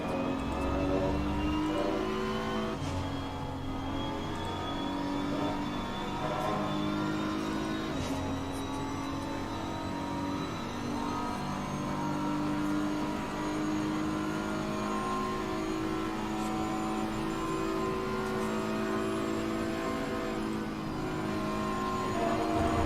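A racing car engine in a racing game at Spa during a 24-hour event, a continuous high-revving drone rising and shifting steadily throughout, loud and close with no speech.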